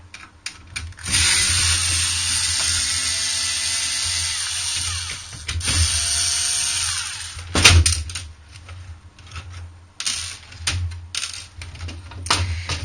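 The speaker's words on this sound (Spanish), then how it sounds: "Vamos a quitar ya los 4 tornillos de color plata que nos quedan, que son las conexiones traseras." A small electric screwdriver whirs in repeated bursts while removing four silver screws from the rear connections of a circuit board, with close motor whine, brief pauses and light metallic clicks between runs.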